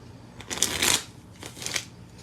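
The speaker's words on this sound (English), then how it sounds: "Let me give this a quick shuffle." Tarot cards are shuffled twice in quick riffling bursts, crisp and close, with a short pause between them.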